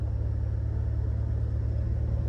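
A Thai rocket-nose van rolls along on the road, its engine a steady low rumble with an even hum underneath, close and unbroken, with no voices.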